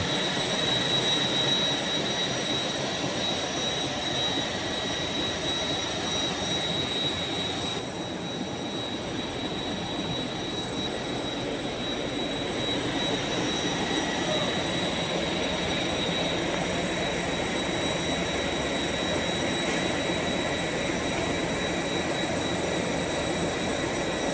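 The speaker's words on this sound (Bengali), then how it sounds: "ইঞ্জিনগুলো দেখুন এ পাশে একটি ইঞ্জিন ওই পাশে একটি ইঞ্জিন মাঝখানে একটি ইঞ্জিন" The big engines of a large passenger launch run steadily, a loud, continuous deep drone with a high whine on top. It stays unchanged throughout and is heard close up, with no speech.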